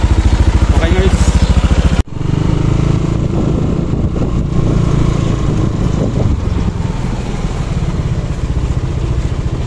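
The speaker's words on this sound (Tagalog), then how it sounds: "Kahit bitawan natin ang silinyador, hindi na mamamatay yan." Yamaha Aerox scooter engine, repaired after an error 37 fault, idling with a rapid even putter close by, broken by a sharp click partway through, then settling into a steady idle as someone talks over it.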